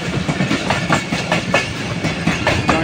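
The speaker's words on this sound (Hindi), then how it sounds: "26 डाउन बावल जिक्रिया एक्सप्रेस जो है मलिर स्टेशन से थ्रू पास हो रही है इस टाइम" An express train passes through Malir station without stopping. A loud, steady rumble runs throughout, with rhythmic clickety-clack wheel beats close by.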